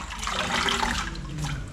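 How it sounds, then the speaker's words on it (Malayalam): Jackfruit leaves are washed by hand in turmeric water in a Kerala home kitchen, giving a close, continuous sloshing and splashing with soft swirls of liquid throughout. "ഇത് നന്നായി കഴുകി വാരാം"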